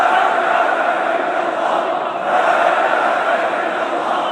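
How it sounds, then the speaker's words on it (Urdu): A large crowd outside Hagia Sophia chants Islamic slogans in a dense, continuous roar of many voices, loud and steady with a brief dip midway and no clear individual words standing out. "آیا صوفیہ کے باہر لوگوں کا ایک ہجوم تھا جو اسلامی نعرے لگا رہے تھے"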